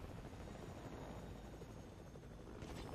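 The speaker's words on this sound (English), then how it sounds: "Do see Minnow in that helicopter" Helicopter in the Fortnite video game, a steady rotor drone with a dense low-frequency chop running throughout at moderate level, with no speech.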